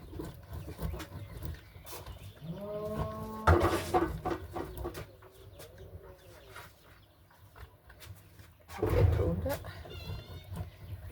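A small, lively kitten mews in short bursts, mixed with someone speaking softly nearby, with quieter room sounds in between.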